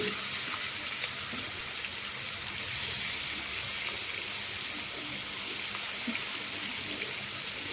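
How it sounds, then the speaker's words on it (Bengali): Chicken pieces frying over high flame in white oil and desi ghee in a kadai for biryani, a steady, dense hiss of sizzling that runs unbroken throughout with no talk. "এদিকে আমি কড়াই গরম করে দিয়ে দিয়েছি সাদা তেল আর দেশি ঘি এরপরে একটা একটা করে চিকেন এখানে আমি দিতে থাকবো এবং ভালো ভালোভাবে ভেজে নিতে থাকবে"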